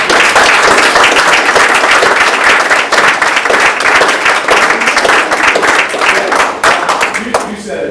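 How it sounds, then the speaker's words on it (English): Loud, sustained applause from a crowd at a school district Board of Education meeting honoring certificate recipients, dense clapping filling the room and tapering slightly near the end. "Can we give a round of applause?"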